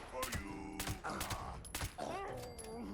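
Several gunshots from a firearm in Fallout 76 come in quick bursts of vertical cracks spread across the moment, mixed with game sounds and a voice talking over them.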